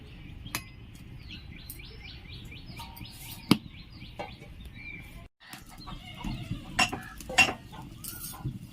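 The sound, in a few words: lid placed on cooking pot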